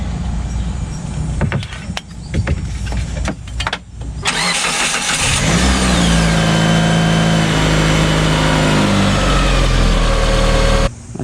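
A warmed-up Mitsubishi Eclipse GS 4G engine starts with a few clanks, then settles into a loud, steady idle with a rising and falling mechanical drone, close and continuous for several seconds before cutting off.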